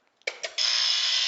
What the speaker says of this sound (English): I get to hit a buzzer